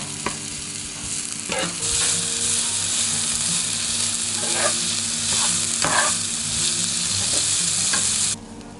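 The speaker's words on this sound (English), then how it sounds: "cook it for 5 minutes on medium-high heat and keep stirring it every now and then" Food cooking in a pan on medium-high heat gives off a loud, continuous sizzle, with several spatula scrapes and clinks as it is stirred.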